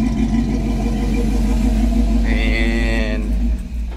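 A 1955 Chevy truck engine idles nearby with a steady low rumble, and a brief higher tone rises over it near the end.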